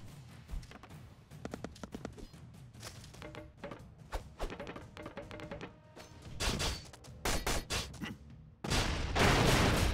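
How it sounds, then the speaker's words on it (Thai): Rapid gunfire crackles in the Broforce video game, with dense bursts of shots building to a loud, sustained barrage at the end. "เสียงปืนไวว่ะเฮ้ย"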